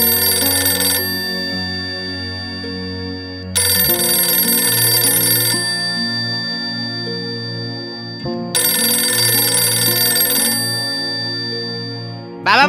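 A telephone rings in three long melodic bursts with short gaps between them, clear and close, with no talk over it.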